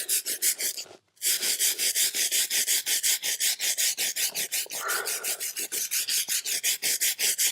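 A brush scrubbing concrete in steady, fast back-and-forth strokes, loud and close, with a brief pause near the start and no speech.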